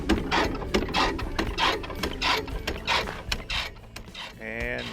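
A solar-powered Keene DW2-12V dry washer runs its motor in the desert near Quartzsite, a rhythmic mechanical clatter and whir repeating steadily under occasional voices.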